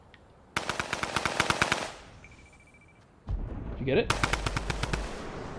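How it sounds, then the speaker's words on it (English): Fortnite automatic gunfire shooting down a building ramp, two loud rapid bursts of evenly spaced shots separated by a brief pause, with a voice speaking between them. "Shoot the beginning ramp down."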